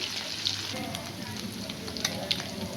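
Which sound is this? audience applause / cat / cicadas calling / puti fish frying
puti fish frying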